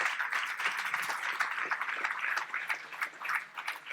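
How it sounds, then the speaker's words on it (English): Audience applause at a program finale, a steady, dense wash of many hands clapping at moderate distance, sustained without pause and with no voices over it. "So round of applause for yourselves."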